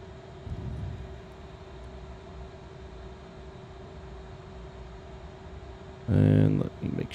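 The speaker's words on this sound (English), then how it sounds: "So APU's on." CRJ airliner's auxiliary power unit running steadily in a flight simulator, a constant low hum with a faint tonal whine throughout, joined by a brief louder burst near the end.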